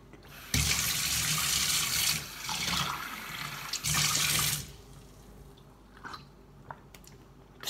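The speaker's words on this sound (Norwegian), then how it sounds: "Nå så skal jeg fylle et glass. Med vann" Water runs from a tap into a drinking glass, a loud steady gush in two bursts with a short pause between, followed by quieter clinks and handling sounds.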